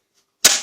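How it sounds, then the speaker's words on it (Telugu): A single sharp snap of a gas stove igniter clicking alight, near and loud, followed by a short soft whoosh as the burner catches. "ఇప్పుడు స్టవ్ వెలిగించి"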